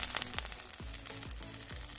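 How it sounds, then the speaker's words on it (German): Toothpaste sizzling as it hits molten lava, a steady crackling hiss with faint repeated low thuds underneath, close but fairly quiet, with no talking. "Krass, dass Zahnpasta so brutzelt."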